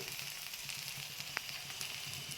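Aloo paratha frying in ghee on a pan over a low gas flame, giving a steady, soft, close sizzle throughout with one brief crackle partway through and no talking.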